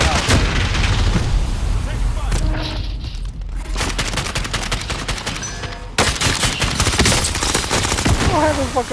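Dense, loud gunfire from a first-person shooter match amid airstrikes and a UAV overhead: rapid overlapping bursts and single shots that thin into a brief lull near the middle, then resume at full intensity, with faint voices underneath.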